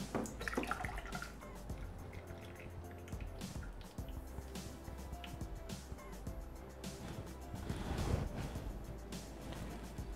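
Fresh cream is poured into a Thermomix bowl holding pistachio cream. A faint, steady glugging liquid sound with a few drips is heard nearby, with no talk.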